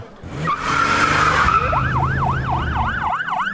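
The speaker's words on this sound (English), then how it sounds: "Captain Bloward screeched the car into a U-turn and roared down Bridge Avenue" A car's tires screech loudly as it swings through a sharp U-turn, then the engine roars as it speeds off while a wailing siren sweeps up and down close by.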